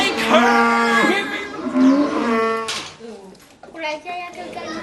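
A human voice imitates a long, lowing cow moo with sliding, drawn-out tones, loud and close, within a vocal ensemble performance, followed by more spoken or sung vocal sounds.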